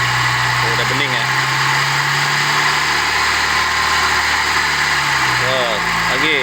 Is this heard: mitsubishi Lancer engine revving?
yes